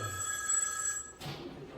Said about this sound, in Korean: 전화 받았어요.